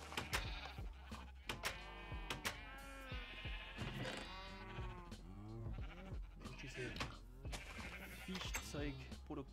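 Sheep bleat over and over in the video game Minecraft, many overlapping calls close by, while someone talks in German throughout.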